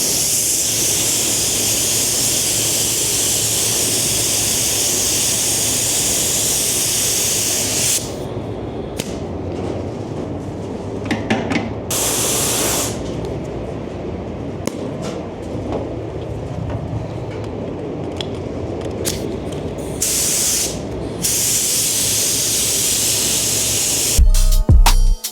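A spray gun lays paint coats on a Lamborghini Revuelto part in long, loud hissing bursts, a sustained spray for several seconds followed by shorter blasts separated by quieter pauses.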